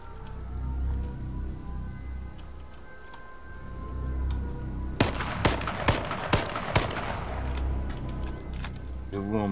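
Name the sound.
gunfire in H1Z1 video game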